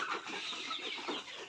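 Young chicks of a local breed kept at home call with soft, rapid chirpy clucks that run continuously and fairly close over quiet background noise.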